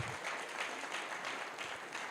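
Steady crowd applause from an audience at a Nigerian grassroots political coalition gathering, dense continuous clapping that holds at an even level for the whole stretch with no voices on top.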